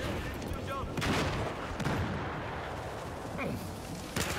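Gunfire in the video game Battlefield 4 on the Golmud Railway map: distant rattling bursts and booming shots scattered through the moment, partly masked by players talking over it.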